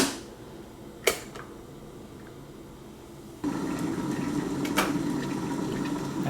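Water heats to a boil in a Hamilton Beach glass electric kettle filled only to the minimum level, with a soft hissing bubble that grows louder and denser partway through, plus a couple of brief sharp clicks.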